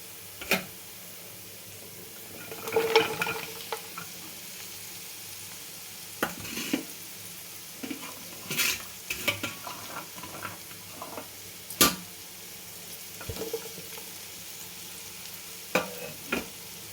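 Ivy gourd pieces fry with onions in a pan, a soft, low sizzle broken by scattered scraping and clinking from stirring, each stroke short and close, spread out with irregular gaps.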